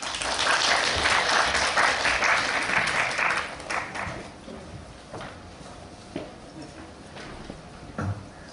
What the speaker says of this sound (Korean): 수고해주신 우리 김정환 박사님께 다시 한번 박수 드릴게요